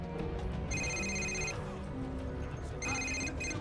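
Video game telephone rings in two bursts of a shrill electronic bell, loud over dense game background noise and music.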